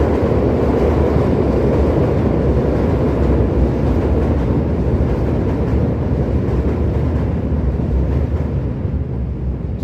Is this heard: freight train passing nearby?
yes